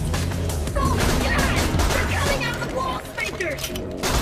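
Rapid, dense gunfire from a Borderlands 2 firefight crackles loudly and almost without pause, layered with in-game sounds and excited voices.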